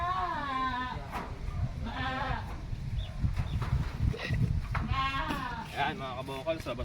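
Several goats bleat repeatedly, their wavering cries coming in bursts over a busy, noisy farmyard background.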